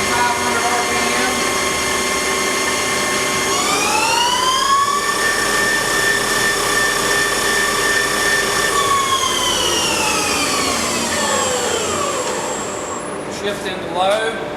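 A 2008 South Western Industries TRL1840SX engine lathe spindle running steadily, with a rising whine as it speeds up, a sustained tone, then a falling pitch as it winds down near the end.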